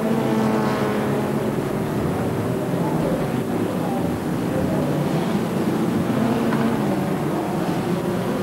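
Small-displacement A1300-class touring cars racing at Schleizer Dreieck in 1989, their engines droning loudly and continuously in a steady broadband roar, with a commentator's voice faintly underneath.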